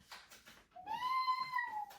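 A single drawn-out cat meow, clear and fairly close, rising then gently falling in pitch, preceded by faint background murmur.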